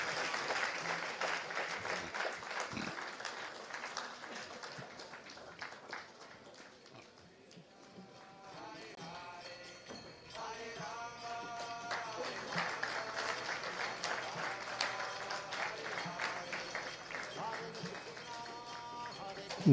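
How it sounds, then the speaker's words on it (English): Scattered audience applause at a book marathon prize distribution rises and falls over several seconds, mixed with crowd murmur and a voice over a loudspeaker. "Big round of applause to them."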